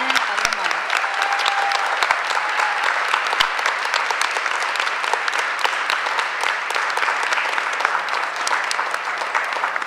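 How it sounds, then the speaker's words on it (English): An audience claps for a student of the month at a school board meeting, a dense, steady round of applause filling the room at even loudness throughout, with a brief voice faintly heard at the start. "Please join me in a round of applause to congratulate Taylor Zabaleta, our Connors Student of the Month"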